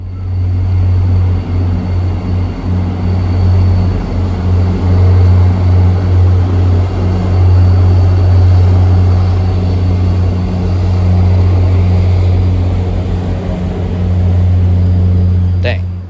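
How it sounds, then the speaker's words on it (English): A slow MBTA commuter train rolls past on the tracks at a terminus station, a loud, steady low rumble and hum that holds for the whole stretch with only slight swells. "That's a slow train."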